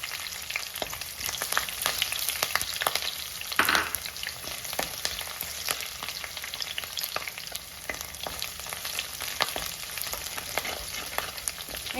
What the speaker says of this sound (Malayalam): ഇഞ്ചിയുടെ കൂടെ തന്നെ നമുക്ക് വെളുത്തുള്ളിയും പച്ചമുളകും കൂടെ ചേർത്ത് കൊടുക്കാം